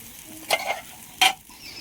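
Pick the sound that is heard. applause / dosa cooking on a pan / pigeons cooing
dosa cooking on a pan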